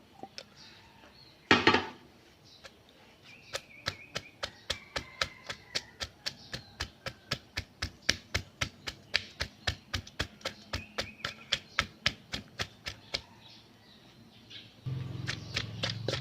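A pestle pounds chilies in a mortar, a long run of regular, evenly spaced thuds, close and fairly crisp, keeping a steady rhythm for about ten seconds before stopping.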